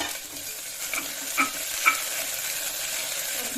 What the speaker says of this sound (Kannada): ಹಸಿ ಮೆಣಸಿನಕಾಯಿ ಶುಂಠಿ ಬೆಳ್ಳುಳ್ಳಿ ಪೇಸ್ಟ್ ಫ್ರೈ ಮಾಡ್ತೀವಿ